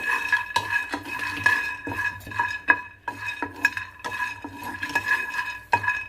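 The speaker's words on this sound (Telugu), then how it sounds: "పల్లీలు వేయించుకుంటానండి" Peanuts being dry-roasted and stirred in a pan, with a steady run of close metallic scrapes and rattling clinks, loud and irregular, no voices.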